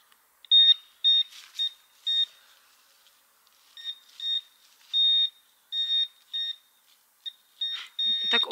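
A handheld pinpointer metal detector on a beach sends out a run of short, sharp, high beeps in irregular bursts, some quick and some held longer, fairly close with little else around.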